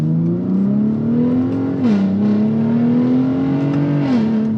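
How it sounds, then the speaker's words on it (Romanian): A Ford Raptor pickup with a 450 hp non-V8 engine, a large truck about 6 metres long and weighing 3 tonnes, accelerates hard with a loud, steady drone that climbs in pitch and dips briefly at two gear shifts. "Acum înțeleg de ce au pus motorul ăsta pe Raptor și n-au pus un V8."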